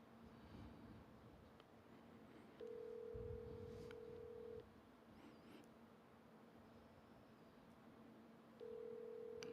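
An outgoing phone call to a cell phone number rings out, with two long ringback tones repeating about six seconds apart over a quiet hiss.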